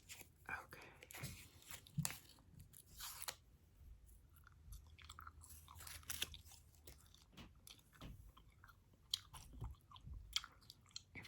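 Close, quiet gum chewing in an ASMR setting, with soft wet smacks and crunchy clicks repeating irregularly, a few louder bursts, and faint whisper-like breath between them.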